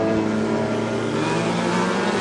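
Hornet class race cars roar around a dirt oval at Princeton Speedway, producing a loud, sustained engine drone that holds steady and close with no pause.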